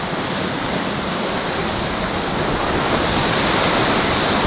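Steady ocean surf with a broad, continuous wash that swells slightly louder toward the end, heard alone without voices.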